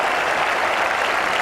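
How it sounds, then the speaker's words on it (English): A cricket crowd at Edgbaston during the 2005 Ashes second Test applauds a big shot, producing a dense, sustained roar of clapping and cheering that fills the whole stretch at high volume. "listen to the response of the crowd"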